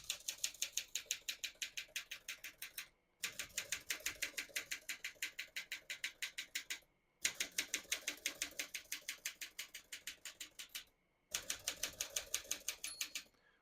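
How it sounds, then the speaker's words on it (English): Rapid, even keystrokes clatter on a 1952 Smith-Corona Silent manual portable typewriter, in bursts of steady typing separated by brief pauses, fairly quiet and close. "That's a manual typewriter."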